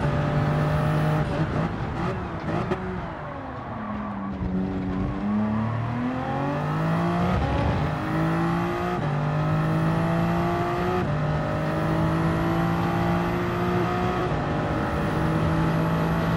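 Race car at full throttle on the Spa circuit in Gran Turismo 7, a loud close engine drone that drops and rises through several gear shifts, with a brief rough lull early on before it pulls steadily at high revs.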